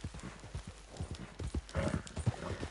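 A horse in Red Dead Redemption 2 gallops with rapid, evenly spaced hoofbeats, and a neigh rises near the end, the sounds close and clear with no talk over them.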